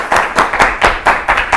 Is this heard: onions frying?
no